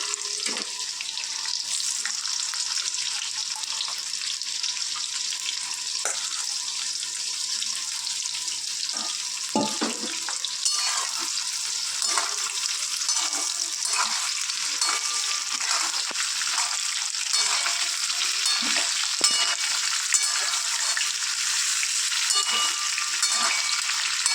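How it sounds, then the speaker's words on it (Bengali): Unsalted eggplant pieces fry in hot oil in a home kitchen, giving a steady, fairly loud sizzle that runs unbroken throughout, with a few light clinks and stirring sounds. "তেলটা গরম হয়ে গেছে এই অবস্থায় আমরা বেগুনগুলোকে ছেড়ে দেব"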